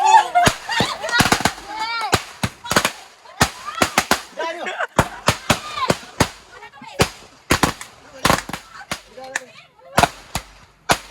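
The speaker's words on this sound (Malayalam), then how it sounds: "പടക്ക എങ്ങനെയുണ്ട്?" Firecrackers set off during a family Eid celebration crack in sharp, irregular bursts, some in quick clusters and others spaced apart, loud and close, with voices talking between the bangs.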